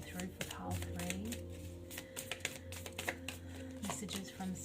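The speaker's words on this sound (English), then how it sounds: "I'm going to shuffle some cards first of all" Tarot cards are shuffled by hand in a series of quick, soft riffling clicks and flutters, close to the microphone, with faint voice murmurs underneath.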